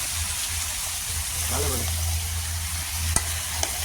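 Chicken masala with onion sizzles loudly in a pan as it is stirred, a steady frying hiss over a low hum with a couple of sharp spoon clicks, while a voice speaks briefly.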